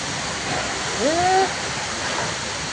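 Heavy rain pours down steadily in a sudden storm, a dense, constant roar of water close around, with a brief tonal squeak in the middle and no clear speech.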